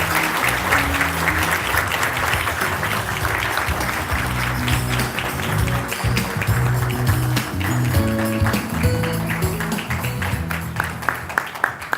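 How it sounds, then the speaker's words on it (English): Sustained applause from a banquet audience at a dinner honoring UN veterans of the Korean War, a dense steady clapping that carries on throughout without a break. "Please join me in welcoming him with a warm round of applause."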